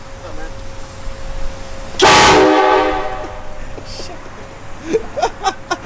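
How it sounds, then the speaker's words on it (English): A truck-mounted train horn setup with a double mid bell gives one loud, harsh blast of about a second that fades out, with people talking before and after. "This is by far the loudest train horn setup we've ever done."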